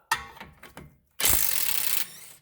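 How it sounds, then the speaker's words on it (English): A 19 mm ratchet works on a tie rod nut on a 2001 Subaru Outback. There are a few sharp metallic clicks, then a loud, continuous ratcheting burr lasting about a second, up close. No speech. "grab a 19 mil and smash off the nut"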